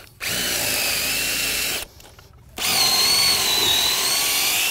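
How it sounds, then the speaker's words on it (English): A power drill whines into wood, stops briefly, then starts again, loud and close, with a steady high-pitched grinding. "Drill a bit, pull it out, clean the bit."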